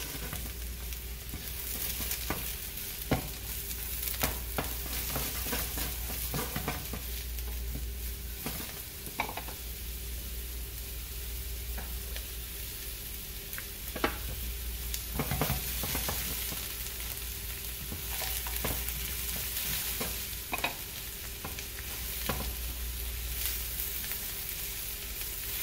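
Ingredients for a Mexican roasted poblano bowl fry in a pan before onions go in, giving a steady close sizzle with scattered small pops and scrapes throughout, no voices.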